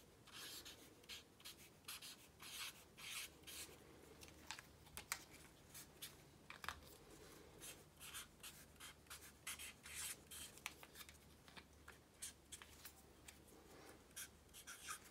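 Pen or pencil scratching on paper as a number is written out by hand, a quiet close run of short irregular strokes and taps with brief pauses, no voices.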